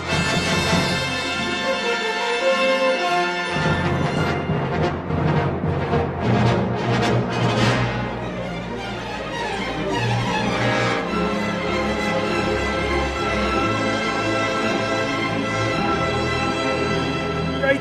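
Star Fox 64 video game music with a shimmering augmented triad chord that swells into a spacey, sustained synth texture, loud and continuous with layered pads and rising tones throughout.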